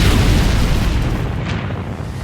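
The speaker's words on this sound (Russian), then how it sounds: "Мост действительно взорвался как раз тогда, когда основная масса наземных войск уже находилась на нем" A bridge blows up under ground troops in a Star Wars battle, a dense, heavy booming roar that fills the whole stretch and slowly eases off, with no talk.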